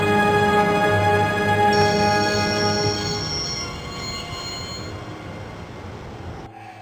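Train in the Broken Sword video game, a loud rumbling rail run with sustained metallic tones and rattling that slowly fades before cutting off abruptly near the end.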